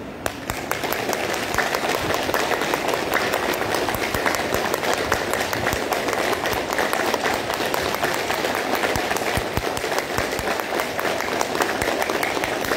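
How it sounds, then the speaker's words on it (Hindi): A yoga session group claps rhythmically and continuously, dense rapid hand clapping at a steady moderate level running unbroken for the whole stretch. "अब तालियां।"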